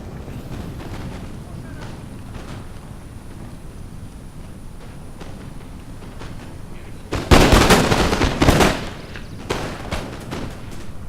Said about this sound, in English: fire as much as I can with my light infantry to hit the Ottoman line